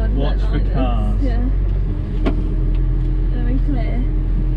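A tractor engine rumbles continuously at low pitch while driving at about five miles an hour, revving up slightly, with people talking over the steady drone.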